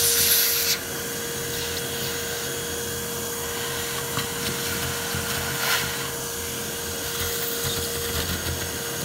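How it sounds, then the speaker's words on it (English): A homemade bee vacuum runs continuously near a hive, a steady motor whine with a fixed hum and airy rushing, with faint scraping knocks and brief surges in the suction. "I was so proud of myself making my own bee vacuum"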